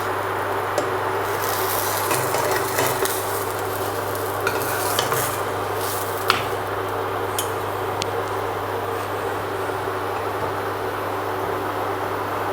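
Jaggery and peanut filling being stirred and sautéed in ghee in a pan, with steady scraping strokes of a spatula over a continuous low sizzle and a constant background hum, close and alone.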